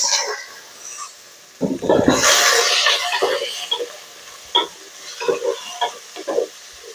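Tomato and onion tossed into a hot pan, giving a sudden loud sizzle that settles into steady frying hiss with intermittent scraping and stirring clatter of a utensil.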